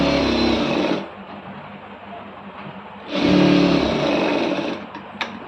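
A sewing machine stitches a blouse in two loud, steady whirring runs, separated by a quieter pause with faint handling noise; close and alone, with no talking.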